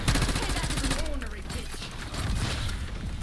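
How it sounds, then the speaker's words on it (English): Rapid shotgun blasts and clattering weapon mechanics in a Call of Duty match, a hectic burst of overlapping shots and reload clicks heard up close, with faint voices underneath. "Everyone's using shotguns."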